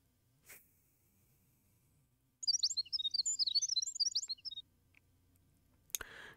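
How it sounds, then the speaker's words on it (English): Fluttering bird chirps and tweets from a game's Hanging Perimeter Gardens in Olympus, Fate/Grand Order, a dense burst of bright calls lasting about two seconds amid quiet ambience, with a soft swish before and a sharp click at the end. "The birds are chirping merrily again today."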